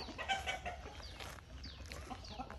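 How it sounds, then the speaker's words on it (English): Chickens clucking in a squabble at a house build site in Thailand, several birds giving overlapping agitated clucks and squawks at moderate distance over steady background noise. "Chicken fight going on right now."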